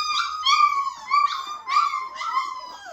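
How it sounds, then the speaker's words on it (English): High-pitched whimpers and drawn-out howls from six-week-old cattle dog cross puppies, several short wavering cries in quick succession, close by and fairly loud with no talking. "Little cattle dogs."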